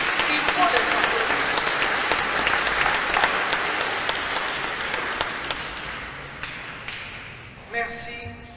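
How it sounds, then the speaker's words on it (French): A church congregation applauds at a Mass welcoming a new priest, with full clapping that gradually thins out, then a few scattered claps and a brief voice as it ends. "Il faut les applaudir."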